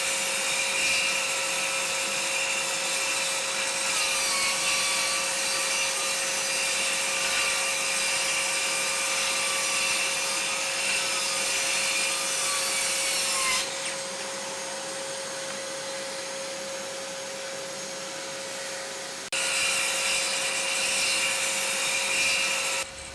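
A Parkside cordless circular saw fitted with a Freud blade cuts through MDF, giving a continuous loud whining roar with a steady tone, which eases briefly mid-cut and then returns to full load.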